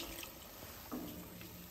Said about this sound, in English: So I'm going to put in a bit of water.